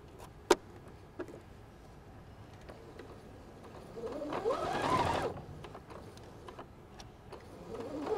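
A sewing machine stitches fabric strips together for quilt binding, a short burst of rapid mechanical whirring near the middle among quieter handling clicks and taps.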